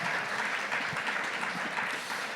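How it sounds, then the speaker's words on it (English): Audience applause for a panel at a business power breakfast event, steady dense clapping from a crowded room, moderately distant and even throughout. "give them a big round of applause for being with us today"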